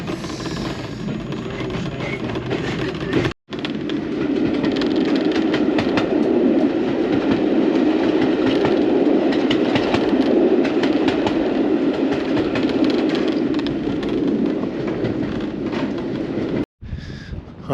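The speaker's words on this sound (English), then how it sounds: "So it's the party train, the Royal Party train." The Jacobite train in Scotland rumbles past close by, a continuous heavy roar with clattering wheels lasting throughout, briefly cut off twice.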